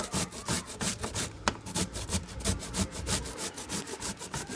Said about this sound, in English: you start with a whole head of cauliflower and use a cheese grater to grind the entire thing